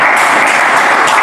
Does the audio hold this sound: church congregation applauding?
yes